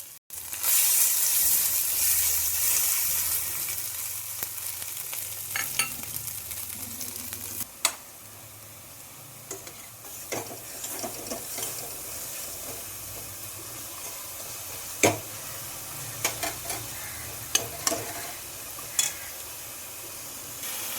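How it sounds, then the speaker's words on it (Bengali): Ground turmeric, cumin, chilli and garam masala frying in a kadai with a splash of water burst into a loud hiss that settles into a softer sizzle, with sharp spoon scrapes and taps at intervals. "একটুখানি জল দিয়ে মশলাটা ভালোভাবে ভেজে নিচ্ছি।"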